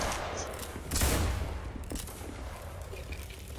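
A line of soldiers in a video game fires one loud rifle volley about a second in. The crackling burst then fades into a steady, noisy battlefield ambience.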